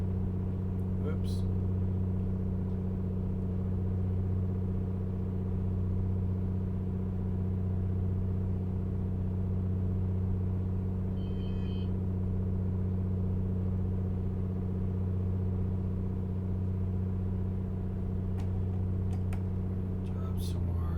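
The engine of an A2A Comanche 250 hums as a steady low drone in a flight simulator during approach, constant and unchanging, with only faint clicks on top.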